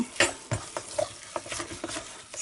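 Almond flour pizza crust dough is mixed in a bowl with a utensil, giving irregular soft knocks, scrapes and clicks at close range, fairly quiet and without talk.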